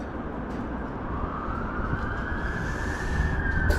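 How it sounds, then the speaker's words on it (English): Fire engine sirens wailing in the distance near the River Irwell in Manchester, a rising, sustained tone over steady background rumble, growing slightly louder toward the end. "There's more now. Fire engines."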